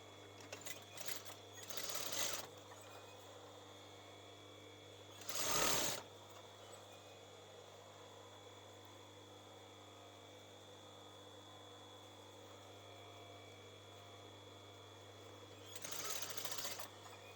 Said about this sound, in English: if you're not comfortable sewing freehand like I do